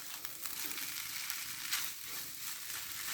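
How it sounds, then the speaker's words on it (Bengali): Vegetable noodles with winter vegetables, soy sauce and noodle spices sizzle and crackle in a pan while being stirred, a steady close frying hiss with brief scraping accents. "সব কিছু ভালো করে মিক্স করে নেব।"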